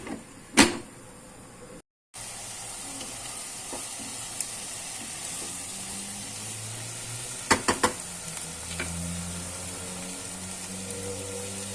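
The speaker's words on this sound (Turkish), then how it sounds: "Artık şunları bir kavuralım." Steady, close sizzling of diced carrots sautéing in a pan, a continuous hiss with a few sharp clicks and scrapes of stirring.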